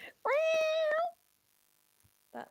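A person imitates a cat with a single long, clear, tonal meow close to the microphone, followed by quiet and a brief bit of talk.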